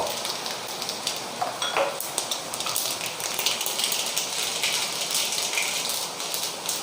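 Mustard seeds spluttering in hot coconut oil in a pan, a steady crackling sizzle with scattered sharp pops throughout, fairly close and loud, with no talking.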